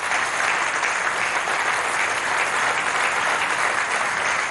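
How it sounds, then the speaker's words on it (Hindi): A studio audience claps loudly for contestants at the grand finale of a television game show. The applause is a steady, dense and uninterrupted roar of many hands throughout. "जोरदार तालियां भी इनके लिए"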